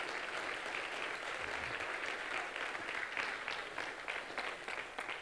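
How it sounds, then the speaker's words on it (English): A church congregation claps in praise, a broad, continuous patter of many hands heard from a distance, fairly faint and even throughout. "Give the Lord a hand clap of praise in his house today."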